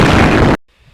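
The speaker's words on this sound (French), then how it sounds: "Je crois que ça a explosé." A single loud explosion in a Minecraft-style survival game bursts at full level for about half a second and then cuts off into near silence.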